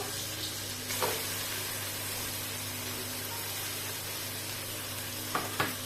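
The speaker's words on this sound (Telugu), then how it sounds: "మసాలాను అయితే బాగా కలుపుకుందాం, కాసేపు వేయించుకుందాం మసాలాని." Ground masala fries in a pan for mutton curry, giving a steady, close sizzle throughout with a couple of brief stirring scrapes.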